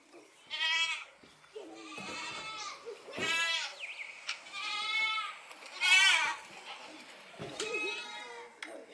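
A goat bleats repeatedly, several wavering, nasal cries at irregular intervals, fairly close and clear against a quiet background.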